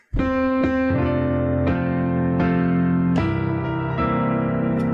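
A piano plays a jazzy Happy Birthday melody with rolled chords struck in a slow series of ringing attacks, close and resonant, with no speech.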